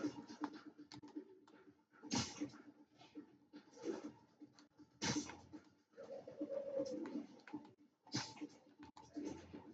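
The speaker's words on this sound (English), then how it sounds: "Only 2 pigeons left now." Pigeons cooing in Marvel's Spider-Man video game, several soft low coos repeating in short bursts at a moderate distance, fairly quiet with light pattering between calls.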